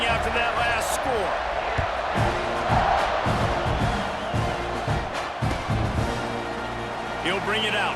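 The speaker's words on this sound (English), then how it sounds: "this crowd is buzzing after that last score" A buzzing stadium crowd in EA Sports College Football 26 during a tied fourth quarter before a kickoff: dense, continuous crowd roar with scattered whoops and thuds, steady and loud throughout.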